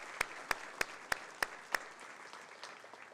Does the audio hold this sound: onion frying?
no